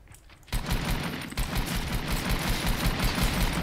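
Rapid automatic fire from a golden AK rifle in Fortnite bursts in after a brief quiet moment, a dense, loud rattle of shots continuing steadily to the end.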